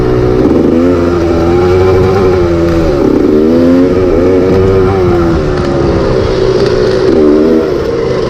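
A KTM motocross dirt bike engine roars loud and close over a jump on a motocross track, holding a steady buzzing drone with slight rises and dips in pitch as the throttle shifts, with no pause.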